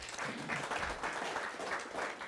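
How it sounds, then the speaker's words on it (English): Workshop audience at a clinical officer harmonization gathering in Kigali clapping together, a fairly faint, steady patter of many hands that keeps going throughout. "They deserve a big clap."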